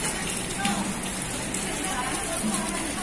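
Steady rain pattering on a surface in Admiralty, Hong Kong, a continuous hiss with scattered drops, with faint voices in the background.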